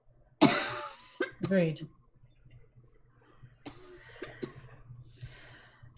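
A person coughs harshly from tent smoke at a tabletop roleplaying session: one loud, close burst followed by a couple of shorter rasping coughs, with quieter talk afterward.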